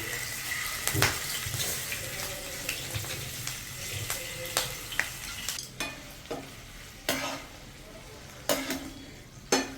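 Marinated prawns roast in oil in a pan with a soft, continuous sizzle. Sharp clacks and scrapes from turning the pieces one by one punctuate it at irregular intervals, fairly close and moderately quiet.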